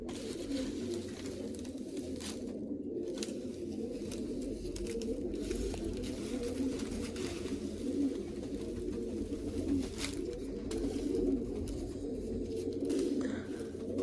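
A flock of pigeons, among them a red-frilled hen with green sides, coos in a dense, continuous low chorus, near and steady, with occasional light pattering and rustling.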